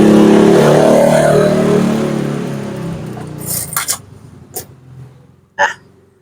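A loud JACK A5E-A industrial sewing machine motor whirs at speed stitching thick fabric, then winds down. Several sharp mechanical clicks and thumps follow as it stops.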